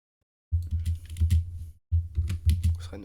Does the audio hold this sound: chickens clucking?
no